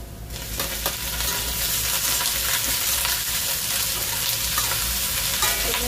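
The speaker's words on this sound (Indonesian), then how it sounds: "lalu kita masukkan tahu goreng" Fried tofu added to a wok with sautéed aromatics sizzles loudly and continuously, overlaid by repeated scraping and stirring strokes up close, with no voices.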